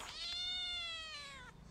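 A single drawn-out cat meow in the video game A Space for the Unbound, clear and tonal, rising then slowly falling over about a second and a half, with no talk.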